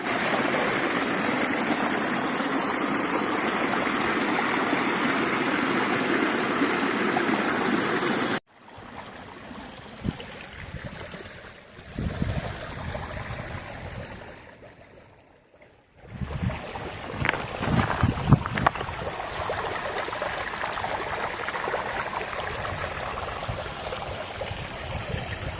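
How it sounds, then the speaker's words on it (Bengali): Snowmelt water from a frozen waterfall near Lachung, on the way to Yumthang Valley, rushes steadily and loudly close by at first, then the recording cuts to quieter, uneven rustling and wind noise. "সব বরফ গলা জল চলে যাচ্ছে"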